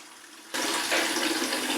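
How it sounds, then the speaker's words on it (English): Hot water from a tap in a home with a recirculating hot water pump: after a brief quiet moment the stream rushes out and keeps up a steady, close, hissing splash. "get the thermometer into the water stream that I'm catching"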